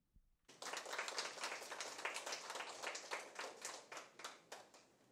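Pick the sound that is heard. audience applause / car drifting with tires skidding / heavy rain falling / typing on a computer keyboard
audience applause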